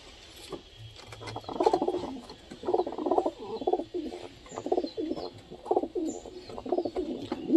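Pigeons coo in steady, repeated rounds of low throaty calls, with light tapping of pecking mixed in between, close and fairly quiet.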